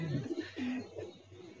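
Golden bajra pigeons coo in a loft, a few close, low, throaty coos in quick succession with a faint room background.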